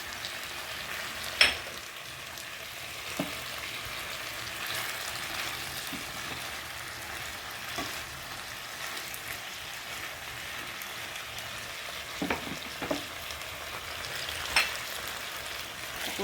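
Okra sautéing in a pan for mixed vegetable stir-fry gives a soft, steady sizzle, fairly quiet and close, broken by a few sharper clinks and stirring knocks, with no talk.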